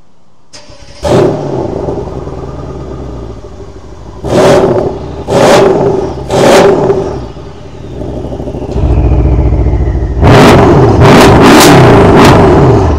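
Mercedes-Benz S63 AMG coupé engine starting with exhaust flaps first closed, then opened: an ignition burst, several loud revving blips with idle between, then a louder, fuller stretch of sharp revs alone.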